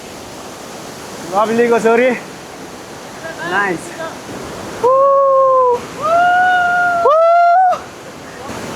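A waterfall in Bandipur, Nepal gives a steady broadband rush through the whole clip, with voices talking and some bright tonal calls or whistles over it.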